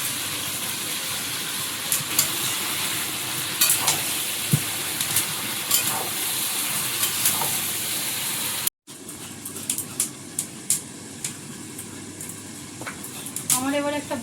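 Fried potatoes go into a pan with cumin powder, and a steady close sizzle continues with frequent sharp scraping and clinking of stirring, broken by a brief gap before frying resumes.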